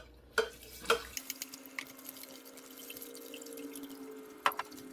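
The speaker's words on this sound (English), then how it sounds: "We're going to whisk it in a little bit." Whole milk being whisked into a bechamel sauce for moussaka, with a few sharp whisk clinks against the pan early on, then a soft, steady liquid swishing and stirring close by.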